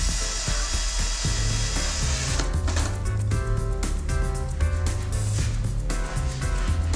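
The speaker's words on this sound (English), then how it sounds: "drill and fix through with a temporary screw" A power drill whirs into a wooden door frame, its pitch shifting as it bites, with scraping and workshop clatter around it and no talking.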